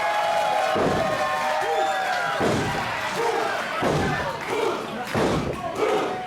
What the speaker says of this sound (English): a flapjack sends Tucker right down, face first into the mat.